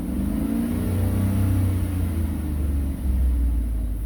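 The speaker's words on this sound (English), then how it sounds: "I'll go ahead and hit the throttle" A Chevy engine, fitted with a faulty oil pressure sender and showing a P0523 check engine light, runs loud and close. It holds a steady low drone with a short dip near the end. No voices are heard.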